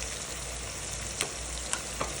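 Ginger garlic paste sautés in a hot pan for dum biryani, a steady close sizzle with a few soft scraping stirs.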